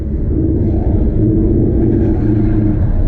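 A drift car's engine drones under load, a steady, loud low rumble with slight surges as the car is driven hard, no voices present.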